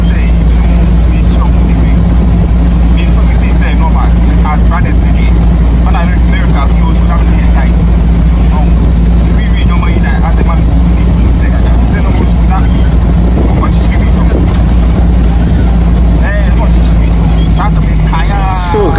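A car drives along a road under construction in Kumasi, Ghana, from Kejetia toward Santasi. Loud, constant engine and road rumble fills the cabin, with a steady low hum and scattered traffic noise.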